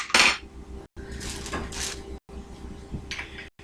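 Cutlery and dishes handled while swapping to a different knife during a food demonstration, a sharp metallic clatter at the start followed by scattered clinks and scrapes, close and separated by brief silences.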